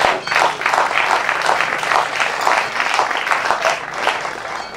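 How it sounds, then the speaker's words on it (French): An audience at a cultural New Year's Eve event in Benin applauds, dense sustained clapping from a crowd filling the whole stretch at steady loudness. "je voudrais prier l'assistance à applaudir, s'il vous plaît."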